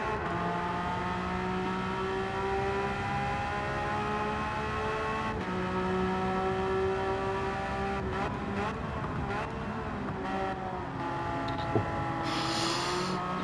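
A Porsche race car in Gran Turismo 7 drones steadily around the Circuit de Catalunya, its engine holding a sustained tone with slight pitch shifts and brief gear-change blips near the end, loud and close without talk.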